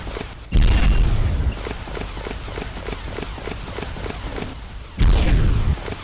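Video game explosions as a rocket hits an NPC turret tower on ARK's Island map: a loud deep boom near the start, rapid rhythmic thuds and clatter through the middle, then a second heavy blast near the end.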